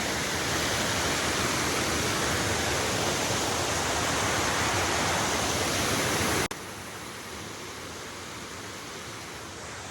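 A fast-flowing stream rushes in a steady, dense wash of water noise on a fishing outing. It stays loud and constant, then drops abruptly to a softer level near the end.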